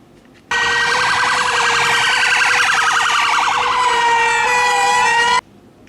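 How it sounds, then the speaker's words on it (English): A police car siren wails steadily at close range, its rapid warbling yelp cycling continuously for about five seconds before cutting off abruptly, with no talk over it. "This is a police car."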